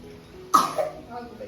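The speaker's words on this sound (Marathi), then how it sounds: "मग जास्त खोकला येत असतो" A single sharp cough close by, followed by a softer throaty trailing sound.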